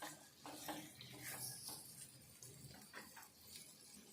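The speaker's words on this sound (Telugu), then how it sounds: "ఇదైతే కలుపుకోవాలి కొద్దిసేపు." Utensil scraping and clinking in a pan while potato fry is stirred, soft and close with intermittent strokes over a quiet background.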